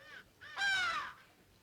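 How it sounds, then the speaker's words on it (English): Crows caw outside a house, three harsh calls in quick succession with the last one longest and loudest, fairly close and clear. "Oh, it's so noisy out here."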